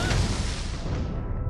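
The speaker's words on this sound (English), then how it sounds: "Jumped right into those fucking cannon blasts." A heavy cannon blast in Assassin's Creed: Rogue Remastered booms loudly and rolls off into a fading rumble, with no voices present.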